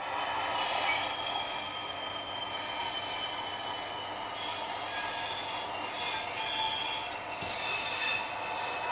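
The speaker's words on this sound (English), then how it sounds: "you can hear the flange squealing" A Bachmann Class 40 model locomotive with DCC sound rounds a tight radius 2 curve, its wheel flanges squealing steadily under the running rumble, close and continuous for the whole stretch with no talk.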